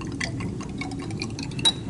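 Liquid CTAB solution is poured into a glass container in a lab, a short, soft trickle with faint clinks of glass, close and fairly quiet.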